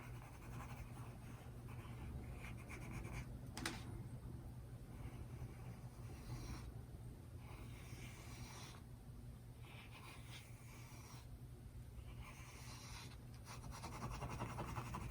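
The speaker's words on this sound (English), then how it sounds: "I'm still dealing with my pencil, or working with a pencil" A pencil works over paper in an abstract drawing, making faint, continuous scratchy strokes and rubs with short pauses between passes, close but quiet, with no voices.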